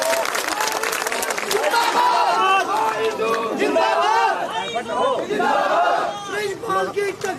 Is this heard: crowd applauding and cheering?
yes